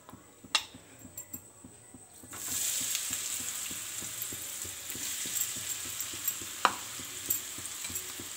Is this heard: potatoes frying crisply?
yes